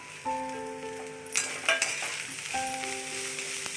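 Capsicum sautéing in a pan for veg fried rice gives a steady low sizzle with a few light stirring scrapes, running under a background melody throughout.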